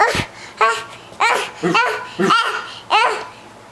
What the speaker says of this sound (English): What does the doggy say?